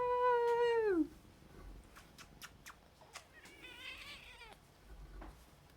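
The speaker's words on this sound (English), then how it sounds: "That wasn't a nice meow. That was like a scream." A pet cat lets out a loud, drawn-out screaming meow that slides downward and cuts off after about a second, followed by quieter clicks, a second wavering yowl and light room noise.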